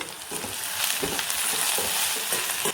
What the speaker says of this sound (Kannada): ಬಾಡೋ ಮಟ್ಟ ನಾವು ಇದನ್ನು ಫ್ರೈ ಮಾಡ್ಕೋಬೇಕು